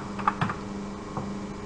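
A few sparse keystrokes tap on a computer keyboard, three or four close, light clicks spread over a brief moment against a quiet room hum.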